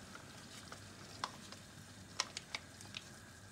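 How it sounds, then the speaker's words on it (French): A spoon stirring sauce in a pan for a fish gratin: quiet, sparse scrapes and clicks against the pan over a faint low simmer, with a few sharper taps spaced irregularly. "Je remue et je laisse cuire à peu près 5 minutes."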